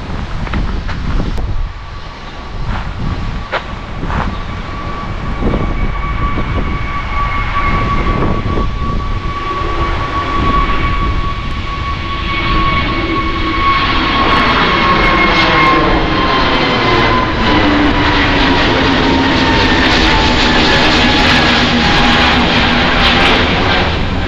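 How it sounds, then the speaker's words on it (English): An airplane flies over on the Azores, its engine roar building loud and close, with a drone that shifts in pitch as it passes and then sustains. "This is what I call plane spotting on the Azores."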